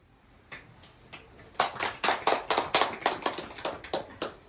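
Audience applause that starts as a few scattered claps, then swells into a steady run of sharp, evenly spaced claps at moderate volume, with no voices over it.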